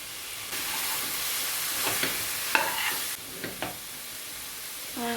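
Pork frying in a pan with ground ginger and garlic, a steady close sizzle broken by several scraping stirs of a utensil against the pan.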